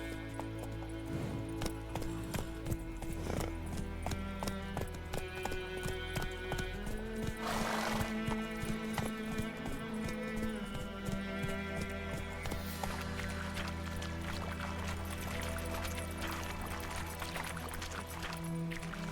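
Steady hoofbeats of a galloping horse in The Witcher 3 drum on continuously with a brief whinny, set against a sustained game music bed, near and even throughout with no talking.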